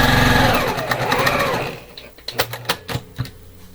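A sewing machine piecing quilt blocks with a quarter-inch seam runs in a steady whirring burst, then stops and gives way to a few separate clicks and knocks.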